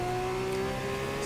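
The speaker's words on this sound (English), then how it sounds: "F2 engine sound." An F2 race car engine in a racing video game holds a steady, high, sustained whine at constant revs, close and fairly loud, with no talking over it.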